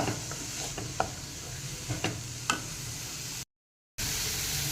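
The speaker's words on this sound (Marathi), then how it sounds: "आता हे बारीक चिरलेलं गाजर घालूयात ते पण छान मिक्स करून घेऊयात" A spoon scrapes and stirs finely chopped carrot into sautéed vegetables for a semolina veg momo filling, with soft sizzling from the pan and a few sharp clinks of the utensil against metal, close and without any talking.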